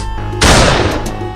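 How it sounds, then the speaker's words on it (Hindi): A gun blast bursts out loudly and suddenly in a forest aimed at snakes, one sharp explosive crack followed by a short rumbling decay, with no talk. "दोनों बंदूक से गोली चला देता है और नाग नागिन को घायल कर देता है।"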